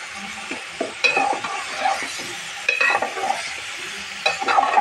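Thinly sliced, washed bottle gourd tipped into cooked-down masala in a pan for a bottle gourd and prawn curry, then stirred: a steady close sizzle broken by repeated scraping strokes, no talking.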